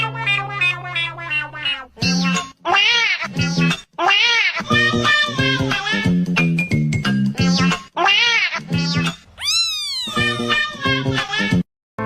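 A cat cries and meows over and over, loud and close, the plaintive calls running almost without a break across the whole stretch and layered with other tonal sound.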